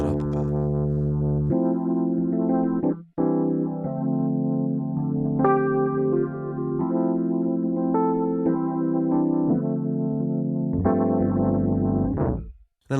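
A Rhodes electric piano plugin with a heavy wow and flutter effect plays sustained chords with a wavering, slightly warbling pitch and a short break partway through.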